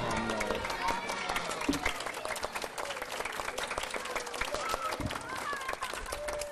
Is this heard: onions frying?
no